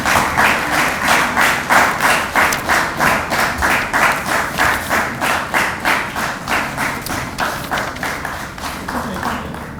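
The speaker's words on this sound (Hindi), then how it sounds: "जरा जोरदार तालियां।" An audience at an award ceremony claps together in a steady, rhythmic beat, loud and sustained for several seconds before slowly thinning out.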